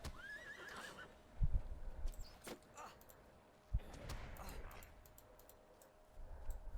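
A horse in LOTRO whinnies once, then its hooves clip-clop in an uneven rhythm, with a few sharp thuds and faint clicks over a low, steady game ambience.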